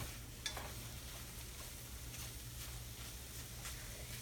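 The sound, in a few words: scrambled eggs stirred in a frying pan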